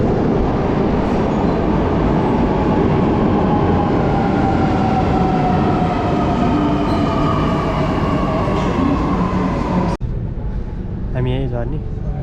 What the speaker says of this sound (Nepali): यहाँबाट चाहिँ हामी अब अर्को ट्रेन चढेर